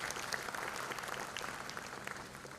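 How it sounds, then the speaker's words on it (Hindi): Conference audience at a keynote event in Bhopal applauding loudly, a dense, steady wash of clapping sustained throughout without any break. "इनके लिए जोरदार ताली बजनी चाहिए"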